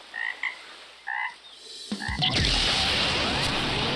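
A frog croaks in a few short, nasal bursts, then a sudden loud, rushing blast of noise swells and fills the rest, like an explosion or impact from an animated fight.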